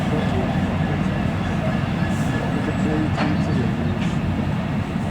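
A China clay freight train crossing the Royal Albert Bridge on the Cornish main line gives a steady, loud low rumble and rolling clatter throughout, with faint voices over it.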